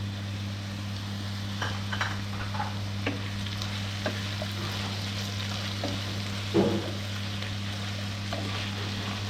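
Finely diced potatoes frying in a pan for a home-style Mumbai oyster dish, a steady sizzle with occasional scraping stirs and a louder clatter of the spoon near the end.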